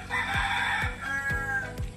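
A rooster crows loudly nearby in one drawn-out call, with other chickens clucking around it.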